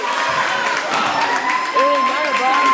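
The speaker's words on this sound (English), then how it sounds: "I don't know why they cheering" Crowd cheering and clapping at an eighth-grade boys' basketball game in a school gym, a steady, fairly loud roar of voices across the whole stretch, with whistle-like tones and shouts rising near the end.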